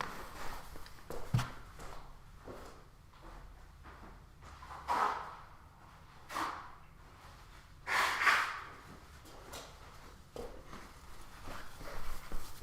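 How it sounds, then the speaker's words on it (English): Several separate bursts of nasal blowing and snorting, close and fairly quiet, with soft breathing and small rustles between them. "So I had to blow my nose."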